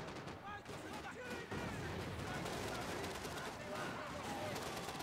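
Video game gunfire from Max Payne 3 is aimed at the player character, with loud, dense, rapid shots and bursts continuing without a break.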